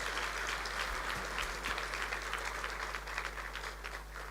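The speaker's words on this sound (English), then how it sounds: "I request you to give them a big round of applause" An audience at a Rotary district conference in Entebbe, Uganda, breaks into steady, sustained applause, a dense patter of many hands clapping under a low background hum.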